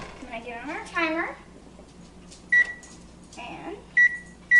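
An oven timer is set while baking banana bread, giving a few short electronic beeps at separate moments, close and clear, with a voice talking briefly beforehand.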